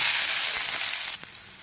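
Ginger, onion, garlic and chopped green chilli hit hot oil with a strong hissing sizzle that eases after about a second, followed by a brief sharp crackle and a quieter steady fry.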